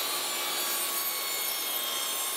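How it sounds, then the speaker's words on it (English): A bandsaw cuts through a wooden piece for a carpenter bee trap, a steady close hissing rasp of blade on wood that runs without a break and without talk. "I'm gonna cut off most of this on the bandsaw."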